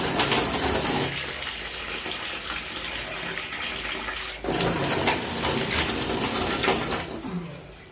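Tap water gushes into a basin for washing coriander and mint, a loud continuous close splashing pour with a brief dip midway before resuming and tapering off at the end.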